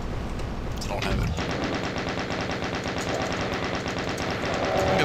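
Gunfire in the classic Doom shooter game, with dense repeated shots and game noise running throughout at a steady level.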